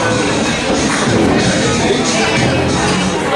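A live pro wrestling crowd greets wrestler Graeme Hughes coldly at his entrance, a loud continuous mass of shouting and murmuring voices with no pauses.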